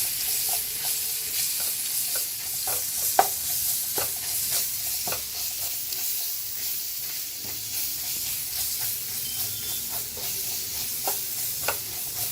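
Sliced large onions sautéing in a pan for South Indian sambar, a steady close sizzle and hiss with regular soft scrapes and taps of a spatula stirring throughout, no voices.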